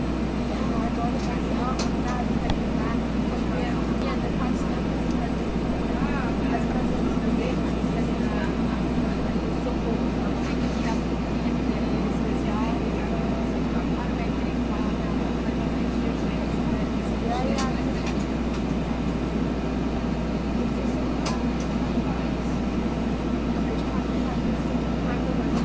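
A Bell 412 helicopter flown in the X-Plane 11 flight simulator gives a steady, loud, droning rotor and engine hum that holds evenly from start to finish, with no breaks.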